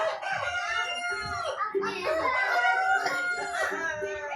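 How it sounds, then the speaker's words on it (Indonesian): A rooster crows in a long, loud cock-a-doodle-doo, played as a recorded animal sound in an English lesson, close and clear with faint clucking texture. "Rooster itu ayam jantan."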